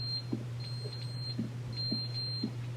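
The roof fire alarm in The Stanley Parable gives faint, high, thin electronic beeps in short intermittent bursts over a constant low hum, with soft thuds between them.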